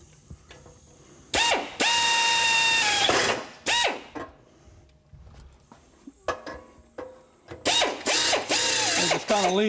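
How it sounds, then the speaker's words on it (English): A power drill whines in several bursts, drilling a hole in a metal exhaust pipe, starting and stopping repeatedly, loud and close, with brief grinding between runs. "Start off drilling straight."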